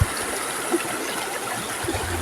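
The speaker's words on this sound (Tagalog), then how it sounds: "Kalabog tubig." Water flows steadily at a river, a continuous close trickling and gurgling wash with a small splash or two.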